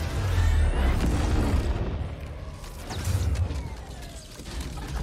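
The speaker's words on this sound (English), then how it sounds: "It's sort of what this big explosion's about." A big explosion in the Star Wars Battlefront 2 (2017) campaign booms with deep rumbling bass and scattered crackling debris, loud and sustained, swelling again midway before fading slightly.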